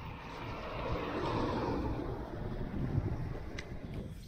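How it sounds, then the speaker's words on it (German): Steady wind roaring across the microphone on a 20% hill climb with a Slidefox P1 S electric scooter outdoors, a continuous rushing buffet that swells and eases over a few seconds, with no talking. "Es ist ein bisschen windig, aber der Wind ist in die richtige Richtung."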